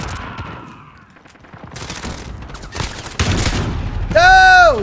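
Shotgun blasts go off in a video game: a series of sharp, booming shots in bursts, growing louder toward the end, with voices reacting in between.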